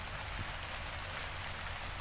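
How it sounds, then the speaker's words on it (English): Steady drizzling rain patters evenly on a surface, a dense constant wash of drops with no voices over it. "a dismal, drizzling rain was falling again"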